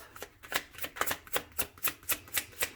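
Tarot cards being shuffled by hand up close, a series of crisp riffling bursts repeating in a steady rhythm roughly every quarter second, quiet and without talk.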